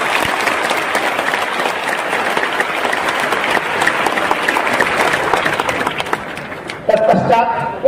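An indoor audience at a convention centre in Patna, Bihar claps loudly and steadily, a dense sustained wash of hands. Voices briefly rise over it near the end.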